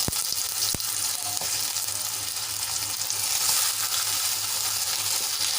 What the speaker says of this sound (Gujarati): હવે એ જ કડાઈમાં આપણે ટમેટાને સાંતળી લેવાના છે તો આ રીતે આપણે આને ટમેટા એડ કરી લઈશું